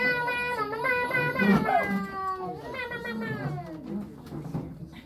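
A human voice at a comedy open mic imitating a cat, producing drawn-out, wavering meows in a couple of rising and falling cries, close and fairly loud.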